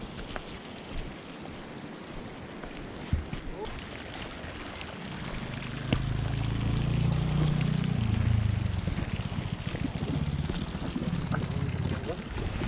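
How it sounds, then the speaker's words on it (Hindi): Very hot water from a hot spring gushes straight out of the ground beside a road in the Niti Valley near Joshimath. It starts as a windy hiss, then becomes a loud, rushing roar midway, with someone speaking over it. "बहुत तेज पानी है, बहुत गर्म है। आप देखोगे तो पानी खोल रहा है।"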